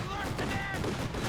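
Gunfire from the video game Company of Heroes 2, rounds striking and bouncing off a tank's armor, a dense continuous rattle of shots under battle noise.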